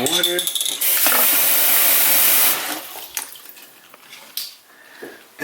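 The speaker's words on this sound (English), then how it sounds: "And then all you do is just soak it." Water splashes and bubbles as a kokedama moss ball is pushed into a container of water to soak, a brief loud gush followed by quieter trickles and small drips.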